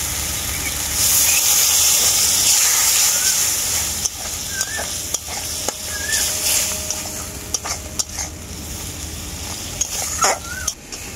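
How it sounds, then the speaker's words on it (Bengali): Chili and turmeric spice paste fries in a pan while being stirred, a steady hiss and sizzle with scraping spoon strokes and a few sharp clinks, fading to quieter intermittent stirring. "এরপর আমি আবারও মশলাটাকে খুব ভালো করে কষিয়ে নেব।"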